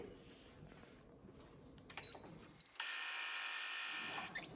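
A sewing machine stitches along a fabric face mask, starting from one end to form a small pocket; a steady mechanical whir holds for about a second after quieter handling and rustling.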